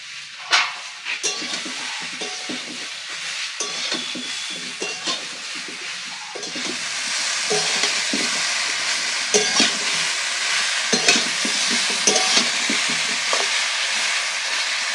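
Mango pieces for pickle fry in a pan with a dense, continuous sizzle that grows louder midway, punctuated by repeated scraping stirs close by, without any talk.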